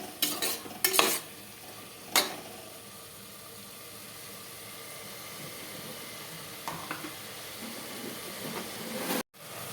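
Four tomatoes softening in a hot pan for tomato biryani, a steady low sizzle with a few sharp stirring clinks and scrapes near the start and a brief clatter at the end.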